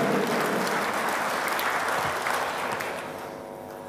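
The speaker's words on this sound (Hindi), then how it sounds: "ज़ोरदार तालियां बजाइए" Loud, continuous applause from a mushaira audience in Muscat, Oman, greeting a poet with a thick wash of clapping that fades slightly toward the end.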